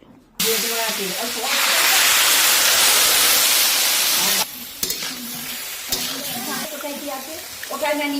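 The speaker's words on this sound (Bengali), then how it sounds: "এবারে যাতে না তলায় ফাট করে জ্বলে যায় বা ধরে যায় তার জন্য দিয়ে দেবো সামান্য পরিমাণে একটু জল" Mustard paste sizzles loudly in a hot pan as a little water is poured in, the sizzle surging into a dense, steady hiss for several seconds and then easing to a softer frying crackle with some stirring.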